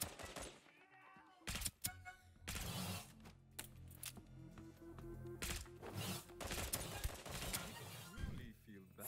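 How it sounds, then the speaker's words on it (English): Video game gunfire crackles in rapid, dense bursts of shots and mechanical clatter across the whole stretch, loud and chaotic, with a player talking over it at times. "Where they're shooting each other?"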